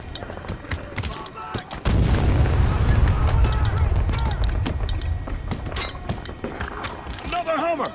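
Mortar fire in the Spec Ops: The Line video game sounds as a heavy boom with a rumbling tail amid battlefield noise, with sharper gunfire cracks and voices calling out over the combat.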